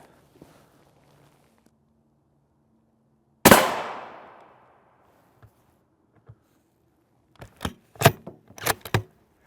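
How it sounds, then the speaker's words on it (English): One loud, close gunshot hits an RTS Tactical Mini Shield rated Level III+, its sharp crack trailing into a brief ringing decay, followed after a quiet gap by a few quick clicks and knocks. "These shots are going to be up top."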